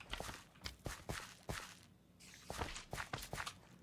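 Footsteps of a Minecraft character in a survival multiplayer world, a run of soft close blocky thuds in uneven rhythm with a short pause midway, fairly quiet.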